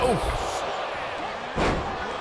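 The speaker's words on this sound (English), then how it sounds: "slammed to the mat by the Butcher" A wrestler is slammed onto the mat in the WWE 2K24 video game, with one heavy thud landing amid a busy arena backdrop of crowd noise and voices.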